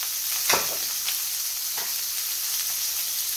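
Steak searing in a hot pan, a steady bright sizzle with a couple of sharp spits and crackles near the start as the meat is handled, no voices.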